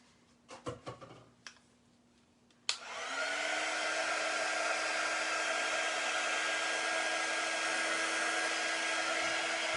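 A few faint clicks and handling knocks come first, then a hair dryer switches on abruptly and runs as a loud steady whoosh with a low hum, drying a silk screen transfer.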